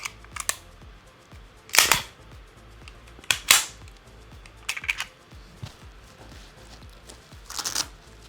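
Handgun drawn from a Tacticon Universal Battle Holster: a few sharp plastic clicks and snaps from the retention releasing, close and loud, set apart by quiet gaps with no talk.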